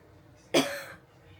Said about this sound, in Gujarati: ક્યારેક ક્યારેક ઉધરસ આવે છે